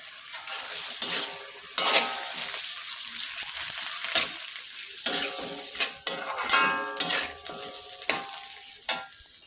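Chicken frying in a pan with ginger garlic paste, salt and spices, loud sizzling punctuated by repeated scraping stirs of a spatula against the pan, up close.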